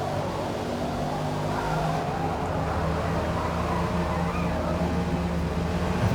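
Tyres on a car fitted with upgraded sports-compound tyres screech and slide through corners in the Forza Motorsport racing game, over a loud, continuous engine roar that stays steady throughout.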